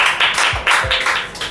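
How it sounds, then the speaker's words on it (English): Scattered clapping from an audience at a school spelling bee, a short uneven patter of a few hands rather than full applause, fairly close. "Claps for him."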